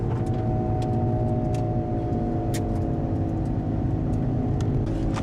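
A car drives along a rural road for about two miles, giving a steady loud rumble of engine and tyres close to the cabin, with a few faint ticks and knocks on top and no one talking.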